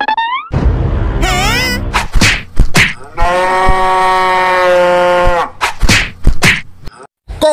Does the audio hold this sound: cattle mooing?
yes